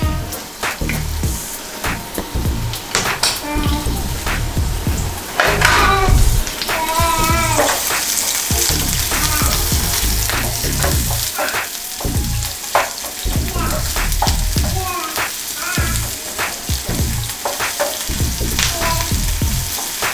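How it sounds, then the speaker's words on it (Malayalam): Chopped onion, green chilli and curry leaves fry in hot coconut oil in a pan for shrimp fry, a loud steady sizzle broken by scraping stirs, with no voices. "നമുക്ക് അരിഞ്ഞു വെച്ചിരുന്ന സവാളയും പച്ചമുളകും കുറച്ച് കറിവേപ്പിലയും കൂടെ പാനിലേക്ക് ഇട്ട് കൊടുക്കുക"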